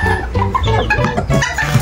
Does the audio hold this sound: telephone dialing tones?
no